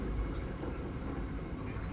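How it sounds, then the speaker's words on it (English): Train engine working harder as it climbs a grade out of the Danube Valley: a continuous dense rumble with rhythmic rolling clatter, steady and fairly close, no voices. "The sound of the engine changes."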